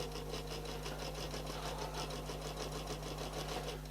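A sewing machine runs on its own, stitching decorative stitches in a circle. It gives a steady, rapid mechanical whir with an even rhythmic needle beat over a low hum.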